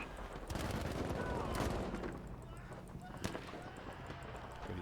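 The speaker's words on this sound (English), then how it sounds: "I'm going to have to use some slow burst fire" Short bursts of assault-rifle fire from a Battlefield V match, spaced controlled bursts over continuous battlefield rumble and ambient din, with a sharp single report near the end.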